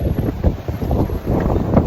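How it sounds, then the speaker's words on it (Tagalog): Strong wind roars and buffets the microphone in continuous low rumbling gusts, loud and close, with no other clear sounds. "Ang lakas ng hangin."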